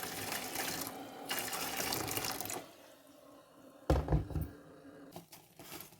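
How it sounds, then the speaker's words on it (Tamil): Hot water pours into a steamer pot for steaming alangai puttu, a steady splashing gush that stops abruptly, followed by a brief louder clatter and a short second trickle, with no speech. "இப்போ என்னட்ட சுடுதண்ணி இருந்தோடையே நான் சுடுதண்ணி விடுறேன்."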